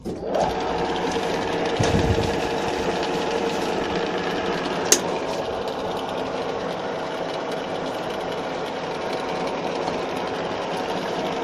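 A drilling machine with a digital readout hums and whirs steadily as its spindle moves to the next marked hole position, with a brief clunk early on and a sharp click midway.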